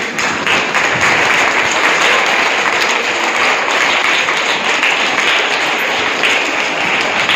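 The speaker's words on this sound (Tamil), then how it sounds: "அவர் பெரிய ஒரு பலத்த கைத்தட்டல் நம்ம கொடுக்கணும்" A dense, steady round of clapping from an audience at a Women's Day celebration, loud and continuous throughout with no pauses.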